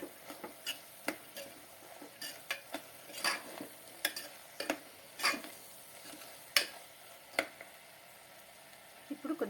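A spoon stirs ground coriander and salt into spinach dal in a pan, giving a string of soft scraping clicks at an uneven pace against a faint low sizzle, quiet and close, with no talking.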